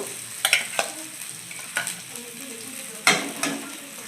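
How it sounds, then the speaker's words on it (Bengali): Green pea paste fries in hot mustard oil in a kadai, a steady soft sizzle broken by a few sharp scraping stirs of a spatula against the pan, close by and without talk. "তেলটা গরম হয়ে এসেছে, এবারে তেলে এই কলাইশুঁটি বাটাটা দিয়ে দেব।"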